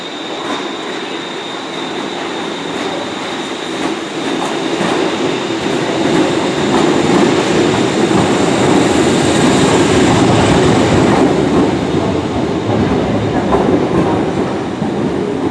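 A Class 314 EMU electric train bound for Paisley Canal rumbles through Glasgow Central station, its steady rolling roar swelling louder after a few seconds and holding near and loud, with no talk.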